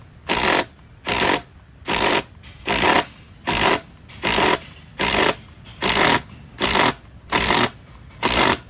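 A Milwaukee 2953-20 cordless impact driver set to auto mode drives a screw in about eleven sharp, evenly spaced hammering bursts, each separated by a brief pause, heard up close.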